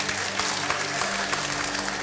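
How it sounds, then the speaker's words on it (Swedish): A studio audience at a televised bingo lottery show applauding, a dense, even wash of clapping that holds steady for the brief moment. "du hör på publiken att de inte applåderar så jättesakt"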